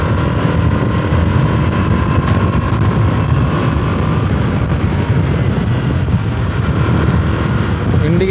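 A 2024 Yamaha R3 300cc sport motorcycle being ridden gives a steady, loud engine drone with a faint tonal whine, mixed with rushing wind, continuous from start to finish.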